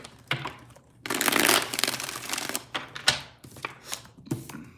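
Tarot cards are shuffled by hand up close, a long riffling burst then several quicker flicks and taps.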